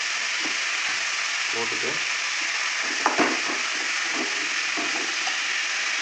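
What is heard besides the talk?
vegetables sautéing in a pan for sambar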